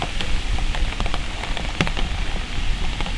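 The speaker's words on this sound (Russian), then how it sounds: "Вот она дождик слышно." Steady patter of rain drumming on a taut umbrella nearby, with scattered louder drops tapping through a constant wash of falling water.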